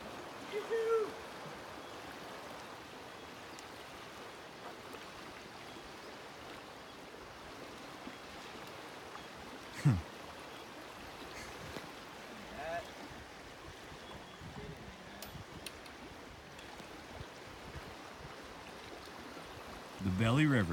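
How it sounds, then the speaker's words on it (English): The Belly River in Glacier National Park flowing steadily, a continuous broadband rush of moving water heard outdoors along a hiking trail, with a few faint bumps and a brief noise at the end. "The Belly River."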